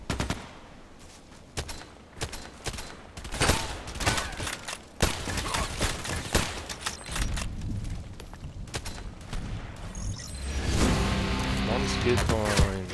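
Rapid rifle fire from an HK417 in a shooter video game, bursts of sharp shots cracking irregularly across the scene, some close and loud, with background game noise and a voice talking over parts of it.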